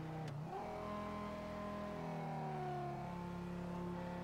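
A car engine in a roleplay driving video game, running rough and droning steadily with a shifting pitch, like a strained idle or slow acceleration. It is loud and continuous, and no voices are heard.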